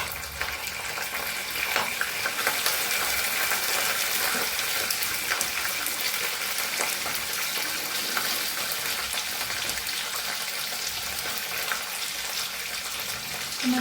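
Mustard seeds, cumin and curry leaves sizzling in hot oil: a steady, hissing crackle with fine popping throughout, moderately loud and without talk.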